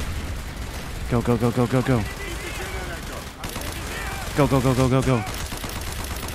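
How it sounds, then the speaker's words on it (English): Gunfire in the Call of Duty Black Ops video game, two quick bursts of rapid shots about three seconds apart over a constant game soundscape, with a voice speaking briefly in between. "I'm being shot at."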